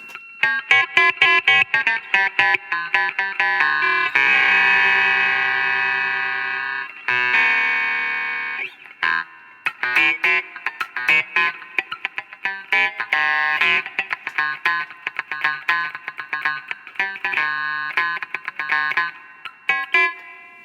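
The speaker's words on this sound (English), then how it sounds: "Can we hear the ring mod without the distortion?" An electric guitar runs through a DOD Gonkulator ring modulator pedal, without distortion, giving loud, metallic, bell-like tones in choppy phrases and a few sustained chords.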